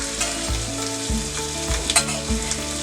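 Cumin seeds and ginger-garlic paste sizzle loudly in hot oil for a Malvani taro-leaf curry, a steady close crackle with periodic low thumps of a spoon stirring through the pan.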